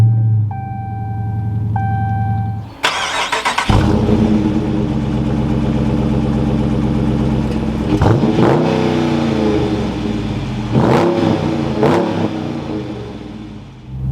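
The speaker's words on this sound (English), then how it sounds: "inside the RT Daytona, keeping my foot on the brake, we can go ahead and fire it up" A 2023 Dodge Charger R/T Daytona is started: after a quiet electronic chime, the engine cranks and catches with a loud flare, then settles into a deep steady idle, with a few short throttle blips, heard up close.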